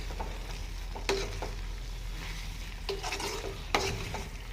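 Spice powders being sautéed in a pan for a dried fish curry: a spoon scrapes and stirs in a few sharp strokes over a soft continuous sizzle, close and fairly loud, with no talking.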